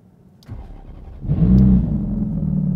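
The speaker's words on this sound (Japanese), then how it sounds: "ではエンジンを始動していきます。" A 2007 Ferrari F430 with a six-speed manual is started: the starter cranks briefly, then the engine catches with a loud rising rev and settles into a steady, rumbling idle close by.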